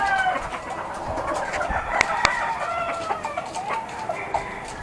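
Hens in a small rooftop chicken coop cluck and call busily together at feeding time, a steady chorus of overlapping squawks with a couple of sharper peaks, close and fairly loud.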